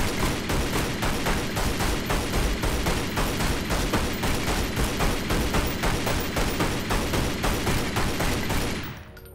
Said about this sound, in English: Start shooting the wall.